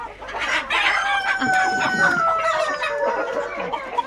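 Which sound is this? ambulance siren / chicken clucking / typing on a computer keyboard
chicken clucking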